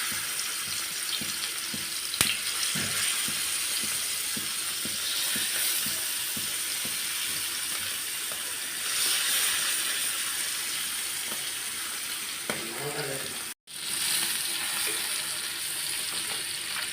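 Fish fries on a flat dosa griddle in a home kitchen, a steady, close sizzle and crackle that carries on without a break, with a brief scrape of handling near the end and a sudden momentary cut.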